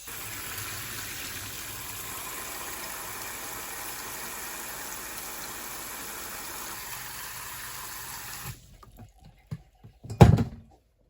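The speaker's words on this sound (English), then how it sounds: "I'm just going to use this hair washing wand and just fill this up with water" Water runs steadily from a hair washing wand into a container while filling it up, a continuous gushing stream for several seconds, then cut off, followed by a few brief clunks and a louder knock near the end.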